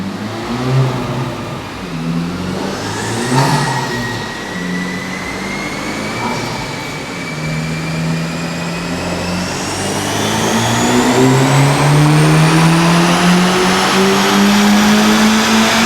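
A 2024 Acura Integra Type-S engine revs on a dyno during a pull, climbing steadily in pitch and growing louder over about sixteen seconds, with no voices over it.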